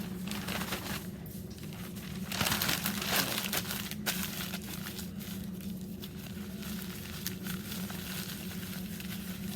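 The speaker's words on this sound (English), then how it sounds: "Crumple, crumple, crumple," Paper crumpled by hand to make paper people, a steady dry crinkling and rustling that swells for a moment near the middle, continuous and close throughout.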